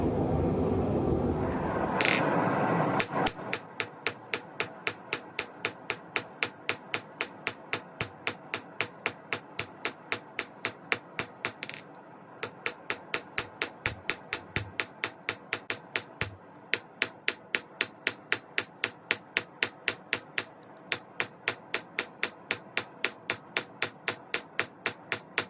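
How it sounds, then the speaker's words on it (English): A forged Bowie knife blade is struck straight against a wood block with a long run of sharp, evenly spaced hammer blows, close and clear, pausing briefly a few times between bursts. "So I'm just straightening it out without messing up the bevels that I just kind of roughed in with this wood block."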